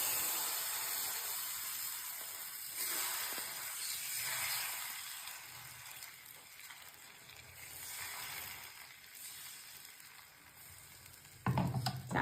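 Rice flour and maida batter frying in an oiled pan for gola roti, a steady sizzling hiss that swells and fades in gentle waves, closing with a few sharp clatters.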